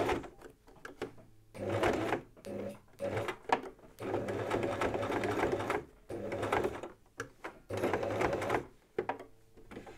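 A sewing machine sews across a torn belt loop on jeans in several close, rattling runs of stitching with brief pauses between them, and no one speaks.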